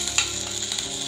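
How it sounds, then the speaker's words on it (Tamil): Coriander seeds, cumin and curry leaves frying in a pan for karam podi, a soft steady crackle with a couple of sharper pops, close and alone. "மல்லி சீரகம்லாம் ஓரளவுக்கு நல்லா ஃப்ரை ஆனதும் இதுல கொஞ்சமா கருவேப்பிலையை சேர்த்துடலாம்."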